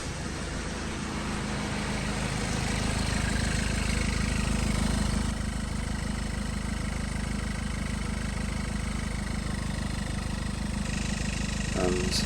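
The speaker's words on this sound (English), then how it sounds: "And now with the engine switched on" A Mitsubishi Shogun 3.2 diesel engine running steadily, with a loud, continuous low mechanical drone and diesel clatter, close and constant throughout with no talk over it.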